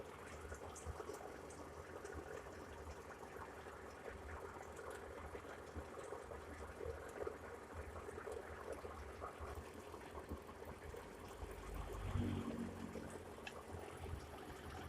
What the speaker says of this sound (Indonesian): Dan sekarang kita masukkan kembali air ke dalam radiator.